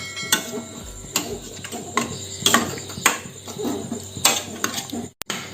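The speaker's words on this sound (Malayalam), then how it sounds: "ഇത് നന്നായിട്ടൊന്ന് മിക്സ് ചെയ്ത് കൊടുക്കാം." A spoon stirs jaggery syrup into broken wheat payasam in a pot, giving irregular clinks and scrapes against the metal in a loose rhythm, fairly close and clear.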